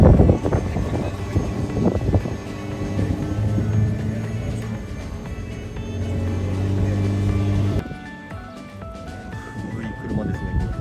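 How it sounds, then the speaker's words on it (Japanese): An old Nissan Cedric passes close by with a loud, steady engine drone and rumble that cuts off abruptly, followed by quieter street ambience. "古い車ですね。"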